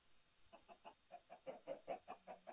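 Chickens on a chicken farm in the Minecraft video game give a quick run of soft, rhythmic clucks that grow slightly louder, faint and alone with no talking.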